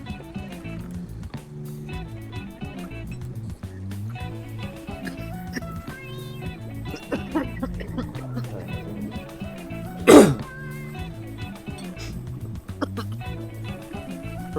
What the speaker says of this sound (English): For once, my coughing is not the nicotine addiction.